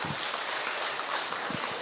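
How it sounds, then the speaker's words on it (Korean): Church congregation applause after a retreat thanks, a dense steady wash of many hands clapping at moderate distance, even and continuous without pauses. "박수 한번 부탁드리겠습니다."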